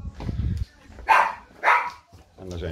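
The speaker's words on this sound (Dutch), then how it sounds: "En daar zijn de honden, die komen eventjes begroeten." Dogs give several loud barks as they come to greet someone at home, with a person's voice talking before and between the barks.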